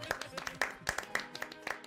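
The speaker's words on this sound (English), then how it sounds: "The magistrate's speech is met with applause." Applause in the video game The Life and Suffering of Sir Brante: scattered, fairly soft claps from a small crowd in a quick irregular patter over about two seconds.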